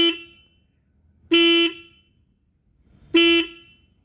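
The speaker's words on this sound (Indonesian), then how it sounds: "Hunter 350 punya klakson yang kencang juga loh." A Royal Enfield Hunter 350 motorcycle sounds its horn in three loud, close honks, each about half a second long, with the last two spaced evenly apart and near-silence between them.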